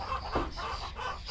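Farm chicken clucking in a soft, continuous run of short calls, close and moderately quiet, with one sharper cluck standing out.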